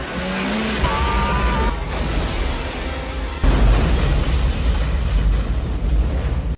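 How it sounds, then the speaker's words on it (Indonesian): A boat blows up in a movie scene, a loud sustained roaring blast breaking in midway after a brief tonal whine, dense and rumbling until it cuts off abruptly. "kapal yang ditumpangi Simon pun akhirnya menabrak kapal pesiarnya sendiri, sehingga ketika ledakan terjadi"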